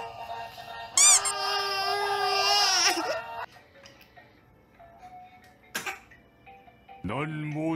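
A seven-month-old baby fusses and cries loudly in a home, with a brief cough-like burst and quieter gaps of room noise between the cries.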